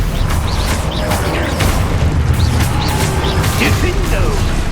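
Expulso spell blasts in Hogwarts Legacy, a dense barrage of booming explosions and crashing magical effects layered over continuous game music and combat noise, loud and close, with spell incantations called out between hits.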